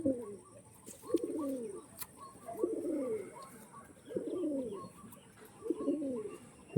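A pair of Magnet breed pigeons from Chennai coo nearby in soft, repeated rolling phrases, about five in a steady rhythm over low background noise.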